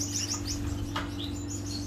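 Small Gouldian finches give soft, high chirps and short tweets, several calls scattered over a steady low hum, fairly close and moderately quiet.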